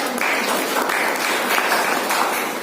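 Applause for the chief guest at a felicitation ceremony for class 12 topper students, a loud, sustained clapping from a packed audience with a faintly pulsing texture, heard close and without talk.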